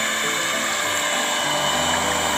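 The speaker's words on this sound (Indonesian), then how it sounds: "Kita mixer kurang lebih sekitar 5 menit" A mixer churning JWA (JADAM wetting agent) solution gives off a continuous, even, high-pitched motor whir with a steady mechanical hum, unbroken for the whole stretch.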